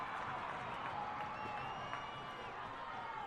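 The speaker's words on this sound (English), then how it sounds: "Big cheer went up around Traeger Park for that one" Crowd cheering and applause around Traeger Park at a MacDonnell Districts versus Ltyentye Apurte Country League football grand final, a steady broad roar from a distant open-air crowd that holds evenly throughout.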